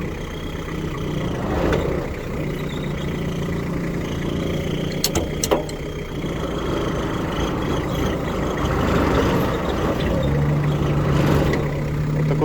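A Kubota GT-3 Japanese mini tractor with a front loader driving along, its engine giving a moderate, steady hum with a few rattles and clanks along the way.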